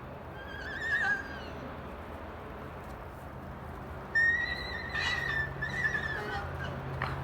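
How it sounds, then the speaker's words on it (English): High, shrill horse squeals ring out twice, once briefly and then a longer bout, over a constant low outdoor rumble. "I could hear them squealing. Well, hear Bear"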